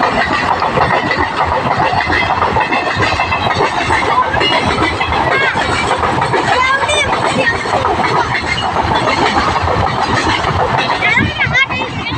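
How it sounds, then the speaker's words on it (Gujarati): A train rolls past close by at a railway crossing, its wheels clattering in a constant loud rumble that fills the whole stretch. "રેલગાડી આવી રહી છે"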